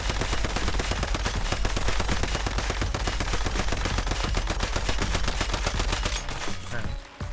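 An SOCR rifle in the shooter game Once Human fires a long, rapid, unbroken automatic stream of loud shots for several seconds before the firing stops abruptly.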